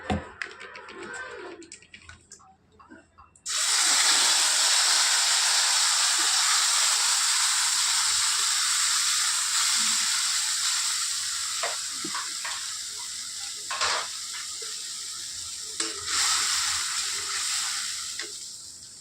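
A tomato, green chili, ginger and cumin paste drops into hot oil with bay leaf and black cardamom, setting off a sudden loud, steady sizzle that continues with occasional stirring scrapes.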